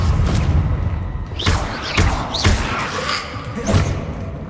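Repeated Confringo blasting-spell impacts in Hogwarts Legacy, several sharp thuds and bursts landing at irregular intervals over a dense, continuous game-combat bed.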